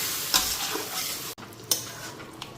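Spiced curry with added water bubbling and sizzling in a pan, with a few close stirring scrapes and clinks over a steady frying hiss.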